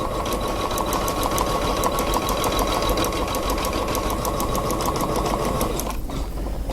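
A sewing machine stitches a row over fabric with a fast, even mechanical chatter of needle strokes. It is close and loud, then slows and stops near the end.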